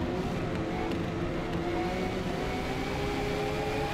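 A Bugatti Veyron is driven flat out on a track in the Forza Motorsport racing game, a constant synthetic engine drone with layered harmonics, steady and unbroken, with no talking.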